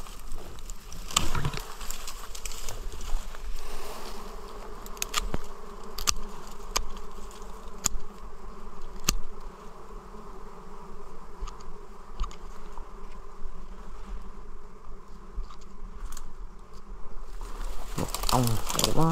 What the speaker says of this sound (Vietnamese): Một ong quá sung.